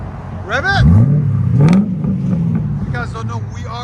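A Mercury Grand Marquis 4.6L V8 revs up hard twice in quick succession, each blip rising and falling, then settles into a loud idle while people talk nearby.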